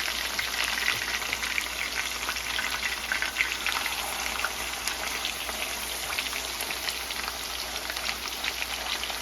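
Four small pork chops frying in a pan, giving a steady, even sizzling hiss that runs on without a break, with no voices over it.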